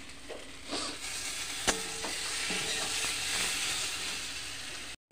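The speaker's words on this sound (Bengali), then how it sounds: "এর সাথে আরেকটু কষিয়ে নিচ্ছি, এর মধ্যে জল ঢেলে দেব।" Potatoes sautéing in a pan give a continuous close sizzle and hiss, with scattered clinks and scrapes of stirring and no voices.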